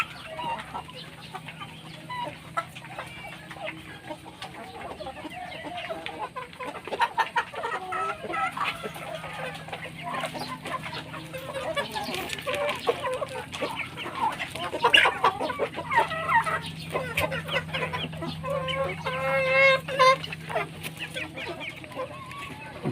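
Free-range chickens clucking close by in a farmyard with a turkey waiting nearby, a scattered run of soft clucks and chatter over a low steady hum, fairly faint overall.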